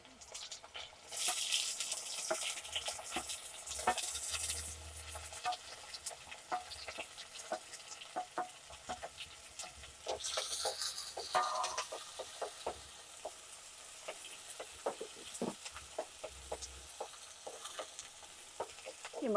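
Chopped shallots fry in a pan with other cooking ingredients, a soft sizzle broken by scraping stirs and light knocks of a spoon against the pan, quiet and close, with louder hissing surges as food is added.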